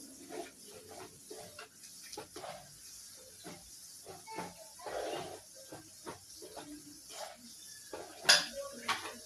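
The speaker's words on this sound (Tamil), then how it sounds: "எண்ணெயில் வந்து இப்படி வந்து நீங்கள் மொல்லமாக கிளறி விடுங்க." Garlic frying in oil in a pan while a spoon gently stirs it, making soft sizzling and hissing with scattered light scrapes and clinks of metal against the pan, fairly quiet and close.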